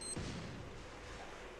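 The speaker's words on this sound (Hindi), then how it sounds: "बेचारे के पास बम फेंक रहा है" A grenade blasts in the mobile battle-royale game Free Fire, a single low boom with a sharp onset followed by a short rumbling decay, fairly quiet overall.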